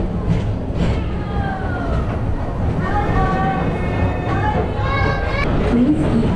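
Magic Kingdom PeopleMover train at Disney World rolling steadily along its track with a low continuous rumble, while a recorded ride narration voice talks over it throughout.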